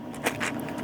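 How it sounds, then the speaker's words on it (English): Red Arkham Horror RPG dice rattle inside their packaging with quick, light clicks and jostles heard close, no voice over them. "These sound like dice, but it came with this."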